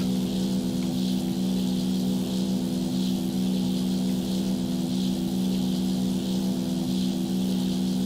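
Steady droning piston engine of a Zlin 242 light aircraft in the X-Plane 11 flight simulator, heard from outside the plane, a constant loud hum with even propeller pulsing and no voices.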